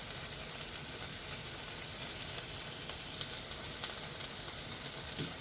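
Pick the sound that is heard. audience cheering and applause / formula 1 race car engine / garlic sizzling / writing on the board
garlic sizzling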